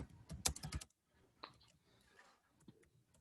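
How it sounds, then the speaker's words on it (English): Fingers tap out a short word on a computer keyboard in a quick burst of close, crisp key clicks, then a few soft scattered clicks follow. "I'm going to type it for you."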